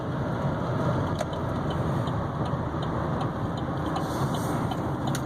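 A 2015 Chevy Silverado 3500HD 4x4 dually with a Duramax diesel, warmed up to operating temperature, idles steadily with a dense, even rumble and faint ticking on top, close and constant throughout.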